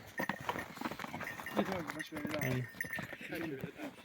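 Hooves clop irregularly on hard ground nearby as a pair of horses walk in Kosmach village in the Carpathians, with someone talking over the steps and faint jingling of tack.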